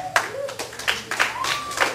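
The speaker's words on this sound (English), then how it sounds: "okay, a spattering of applause" Sparse, scattered clapping from a small stand-up comedy audience, a few separate bursts of claps over about two seconds, with a voice talking alongside.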